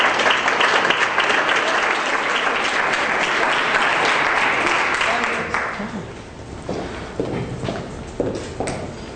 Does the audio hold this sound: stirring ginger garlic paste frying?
no